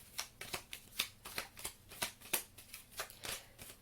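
Tarot cards are shuffled at a steady pace, giving about a dozen quick, soft riffling bursts close by with short gaps between them, quiet overall with no talking.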